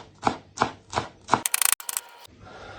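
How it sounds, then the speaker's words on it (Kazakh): Four evenly spaced knife chops strike a cutting board as washed dill is cut for a salad, followed by a short burst of bright rattling and scraping. The sounds are close and clear, with no talking. "Оны да біз салатымызға ұсақтап турап қосамыз."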